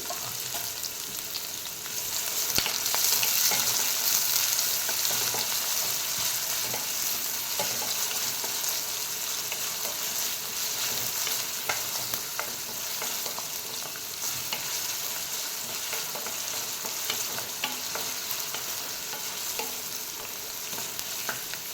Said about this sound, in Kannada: ಹಸಿಮೆಣಸು ಒಂದೆರಡು ಕಟ್ ಮಾಡಿ ಇಟ್ಕೊಂಡಿದ್ದೀನಿ, ಅದನ್ನು ಸೇರಿಸ್ತೀನಿ.